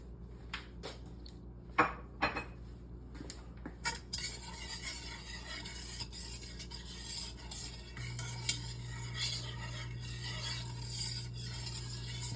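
Eggs for banana pudding are mixed in a bowl, with a few light clinks of a utensil at first, then steady swishing and stirring over a low hum, soft and close with no voices.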